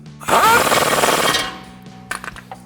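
A 21mm socket wrench tightens a suspension nut on a 2019-2023 RAM 1500 during a bolt-on lift kit install, giving a loud, sustained ratcheting buzz of about a second, followed by a few quieter clicks and knocks.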